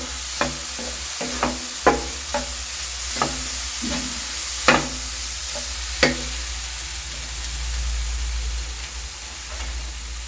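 A spoon scrapes and taps against a pan in a series of quick strokes over a low steady sizzle, which continues alone afterward.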